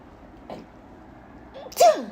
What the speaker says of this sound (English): the sneeze kind of just confirmed it for me